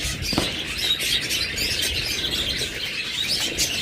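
Prince finches give soft, high chirps and tweets against a faint background hiss, with no voices.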